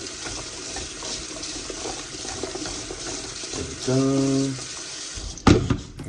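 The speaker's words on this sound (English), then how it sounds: "you can put it in a bowl, tip it out, just until the water's like clear" Tap water runs steadily into a bowl of cut potatoes being rinsed in a kitchen, a continuous splashing wash with a brief louder clatter near the end and a few quiet words spoken over it.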